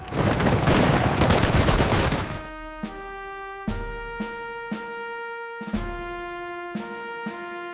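A Civil War-era gunfire volley starts as a dense, loud crackle of massed rifle shots. Separate booming reports with long ringing tails then follow at a steady, spaced rhythm.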